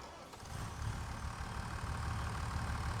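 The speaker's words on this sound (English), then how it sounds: "Nice engine sound" A tractor engine idles in Farming Simulator 25, a steady low rumbling drone that fades in after a brief quiet start and then holds even and close, with no talking.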